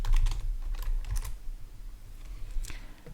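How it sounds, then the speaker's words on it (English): Typing on a computer keyboard while entering a password during an AWS account sign-up, with a few loose bursts of keystrokes close up over a low background hum. "let's type in a generic password"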